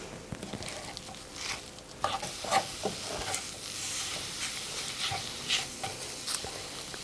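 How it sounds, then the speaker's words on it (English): Food is stirred in a non-stick pan over medium heat for a vegan breakfast, giving a soft, low sizzle with intermittent scraping and clinking strokes at an uneven pace, fairly quiet and close. "So I've just got this on a medium heat and I'm just going to keep stirring this through"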